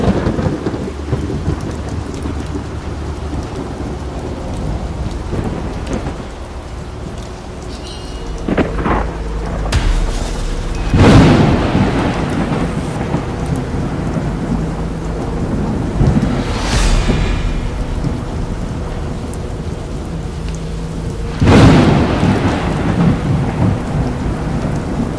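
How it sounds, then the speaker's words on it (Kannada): Heavy monsoon rain pours steadily on a night camp in a forest, and three loud thunder cracks break out at intervals over the constant downpour. "ಗುಡುಗು ಸಿಡ್ಲು ಸಿಕ್ಕಾಬಟ್ಟೆ ಬೀಳ್ತಾ ಇದೆ"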